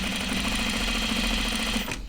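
A sewing machine runs a steady, even stitching hum on a short stitch length, sewing the edges of an Audrey Jean jacket, loud and close, then stops abruptly near the end.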